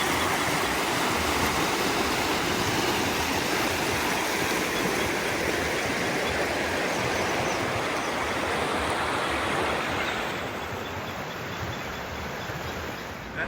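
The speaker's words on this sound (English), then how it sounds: "This is Cascade Creek." Cascade Creek in New Zealand's Milford Sound area rushes in a continuous, broad roar of flowing water, close and steady throughout, easing slightly toward the end.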